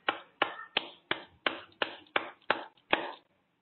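Hands clap eight times at a steady, even rhythm, each clap a sharp, close, dry slap with a quick decay, alone in an otherwise quiet room.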